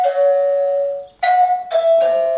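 An Aqara HomeKit doorbell chime plays a sustained two-tone ding-dong melody, clear and loud, with a short pause before the tones repeat.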